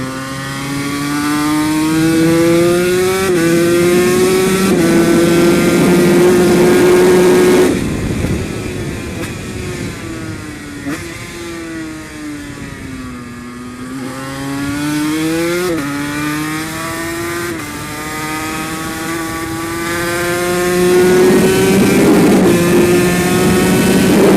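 A Yamaha TZ250 two-stroke racing motorcycle revs loud and close, its high buzzing engine note rising and falling repeatedly as the throttle opens and closes, with one sharp drop and climb midway and no talk.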